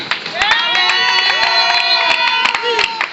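A church congregation cheering and acclaiming during a pastor's sermon, a loud sustained wash of many voices with scattered claps.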